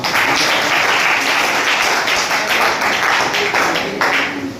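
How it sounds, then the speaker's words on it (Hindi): Dense, loud audience applause for police constable Irfan of Bhadohi at a public gathering, sustained steady clapping throughout with no talking. "उनके लिए फिर से ताली बजाते हैं"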